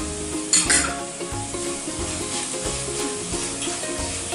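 Spice powders sautéed in a pan for brinjal masala, with a soft sizzle beneath rhythmic scraping and stirring strokes and a brief louder clatter near the start, close up with no voices.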